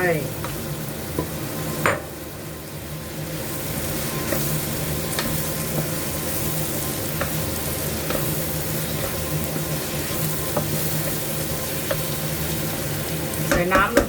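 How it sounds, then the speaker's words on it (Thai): Chopped tomatoes sizzle steadily in a hot pan for a Thai minced pork chili dip, with a continuous frying hiss and repeated scraping stirs throughout, fairly close and with no talking. "จากนั้นใส่มะเขือเทศลงไป"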